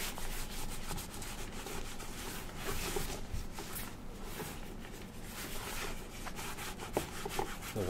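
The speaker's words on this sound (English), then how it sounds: "Notice where I'm putting the cream and where I'm putting the wax." Cream and wax polish are worked into a Magnanni leather shoe by hand, giving close, continuous soft rubbing and brushing strokes in an uneven rhythm, quiet and intimate with no talking.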